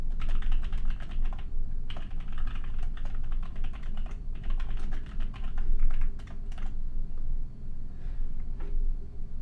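Fast, steady clattering of keys on a computer keyboard while code is written, close and continuous with brief pauses between bursts of typing.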